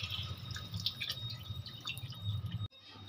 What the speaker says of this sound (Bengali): পরিমাণ মতন জল দিয়ে দিয়েছি।